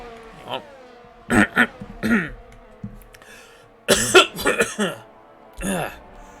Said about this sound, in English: I'm coughing and hiccuping at the same time.